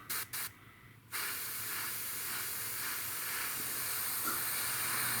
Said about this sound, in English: mist coat of Mr. Leveling Thinner